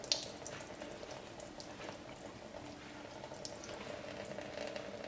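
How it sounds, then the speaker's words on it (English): A paintbrush is rinsed and swirled under running tap water, giving a soft, continuous stream of splashing and trickling at low volume with no talking. "you can rinse off the brush the same way you cleaned it. Just keep swirling under the water."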